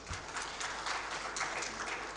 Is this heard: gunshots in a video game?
no